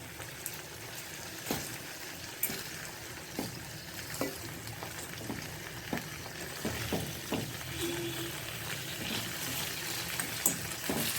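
Chicken pieces for homemade shawarma sizzle and fry in a pan, with steady crackle and scattered sharp clinks and flips of a utensil against the pan, close and moderately loud, with no talking.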